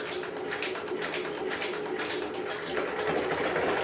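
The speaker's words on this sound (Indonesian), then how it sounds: "Oke, mesin sudah hidup normal." A Yulin 2105 diesel engine on a rice mill runs steadily after starting, giving a continuous rapid mechanical clatter with a faint whine, close and even throughout.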